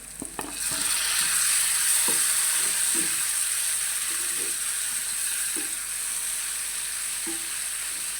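Tomato hitting a hot pan while cooking fish roe kebab, setting off a loud, steady sizzle that holds for the whole stretch, with faint stirring scrapes at intervals underneath.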